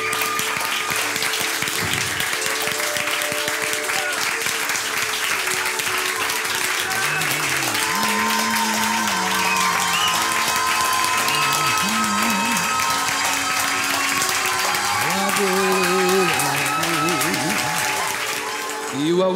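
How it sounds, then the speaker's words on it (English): A church congregation claps hands in praise during a worship service, a dense continuous clapping wash mixed with singing voices and music running under it for the whole stretch. "Can we give Jesus the best hand clap?"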